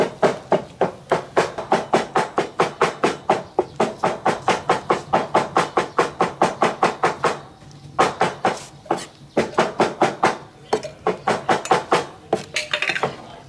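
A cleaver chops tomatoes on a board in a steady fast rhythm of sharp thuds, loud and close, with a brief pause midway before the chopping resumes.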